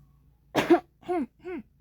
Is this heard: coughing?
yes